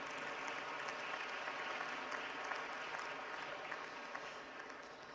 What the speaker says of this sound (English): This, I think, we can approve with an applause.